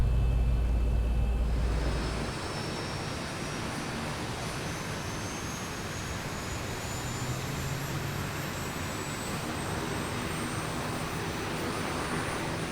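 Boeing 737 engine number 1 spooling up in the X-Plane 11 flight simulator, a steady broadband jet roar with a slowly rising whine, starting over a low rumble.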